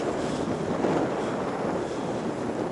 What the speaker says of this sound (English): Yeah, it's windy up here.